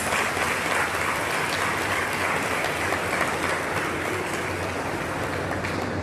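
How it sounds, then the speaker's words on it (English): A crowd at a youth expo in a multipurpose centre applauds a member of the mayoral committee, a continuous, even roar of clapping that fills the space with no voices on top. "can we give a round of applause for MMC?"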